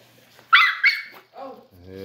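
Rottweiler puppies yipping and barking excitedly while eating raw chicken, a few short close barks and whimpers alongside a voice.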